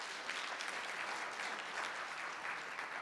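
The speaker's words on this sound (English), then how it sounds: "Can we have another round of applause for Elizabeth?" An audience claps steadily through a session on citizenship and immigration law, sustained dense applause at a moderate level throughout with no talk over it.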